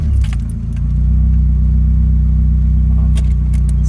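A car engine sputters under acceleration, a loud, steady low rumble with faint keys jangling and a few brief clicks near the end; nobody speaks.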